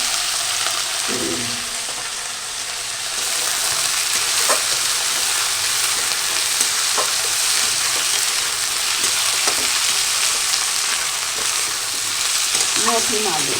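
Potatoes frying in hot oil for a Bengali cabbage ghonto with rohu fish head make a loud, constant sizzle, with occasional clicks and scrapes as they are stirred close by.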